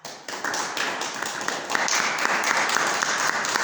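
A church congregation applauding their Lord, a dense burst of close clapping that starts abruptly and holds steady for a few seconds, with no speech over it.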